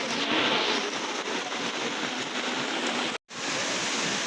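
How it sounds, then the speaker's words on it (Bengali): Heavy rain pours steadily outside the Tarakeswar temple, a dense, loud, continuous hiss of falling water that cuts out in a very brief gap near the end before resuming. "এখন ভীষণ পরিমাণে বৃষ্টি হচ্ছে দেখছো"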